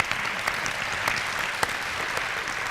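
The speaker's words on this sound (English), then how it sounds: "you deserve another round of applause" An audience in a high school theater claps after a testimony theater performance, a steady, full round of applause from a crowd with sharp individual claps standing out, and no talking over it.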